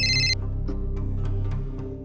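A phone rings with a brief, bright electronic ringtone burst at the start, followed by softer background tones.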